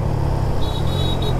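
Triumph Trident 660 motorcycle accelerating in busy Mumbai traffic, a steady close engine rumble with road noise, and a faint high tone partway through.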